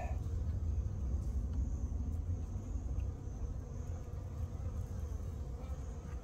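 A newly installed package of honey bees gives off a dense, continuous buzzing hum close by, fairly loud and even over several seconds, with a low rumble underneath and no talking.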